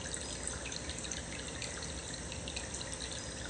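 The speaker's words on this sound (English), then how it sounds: "We'll get the Shishiroshi water stream." A shishi-odoshi water fountain runs in a continuous trickling stream, a bright even wash of flowing and splashing water with no voices over it.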